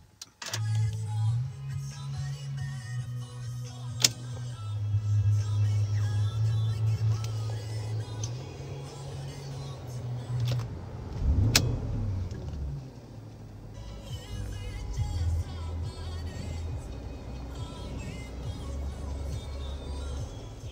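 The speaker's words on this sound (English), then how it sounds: "So now let's start the car with the door closed." A 2013 Porsche Cayenne S with a 4.8L V8 starts up with the door closed and settles into a steady low idle rumble, heard close from inside the cabin, a brief chime cutting through partway.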